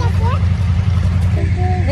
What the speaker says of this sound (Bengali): ওই যে ট্রলার চলে আসছে